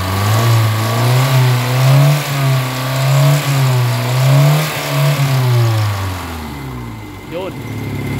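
A Kia Pride car engine with white smoke and low power, after an Xado engine treatment, running and being revved: repeated rising and falling revs over a rough idle, loud and close, then dropping away near the end.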